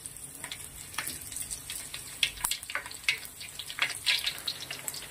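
Dry red and green chilies frying with tempering spices in hot oil, a light crackling sizzle with scattered sharp pops and spatters, fairly quiet and close, no speech.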